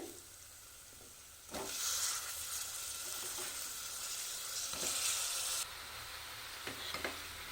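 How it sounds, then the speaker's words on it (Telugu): Eggplant pieces drop into hot oil over an already-fried spice paste for a brinjal-tomato curry, setting off a loud, steady sizzle after a quiet start, with occasional clanks of stirring. "ముందుగా కట్ చేసి పెట్టుకున్న ఈ వంకాయ ముక్కల్ని వేసుకోవాలి"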